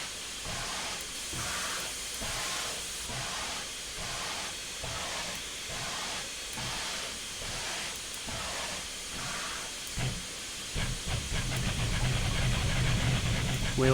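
A Union Pacific FEF-3 No. 844 steam locomotive working up Sherman Hill gives steady, evenly spaced steam chuffs over a constant hiss, then the beats quicken and blur into a faster, rougher burst as the wheels slip, with no voices.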